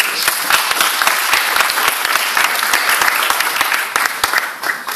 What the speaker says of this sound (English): So I think we all deserve a round of applause for that.